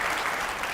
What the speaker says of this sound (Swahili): Nilisikia makofi unapiga